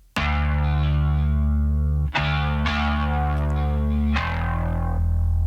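A main bass line layered with a distorted bass effects channel in a mix sounds out as a thick, loud, buzzing sustained tone, retriggered with sharp attacks about four times over several seconds, alone without talk.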